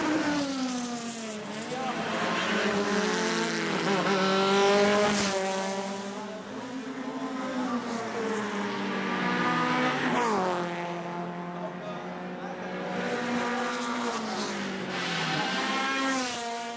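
Race cars at speed on the Veliko Tarnovo circuit, engines rising and falling through strong harmonic sweeps as they pass and shift, loud and continuous for the whole stretch with no talk.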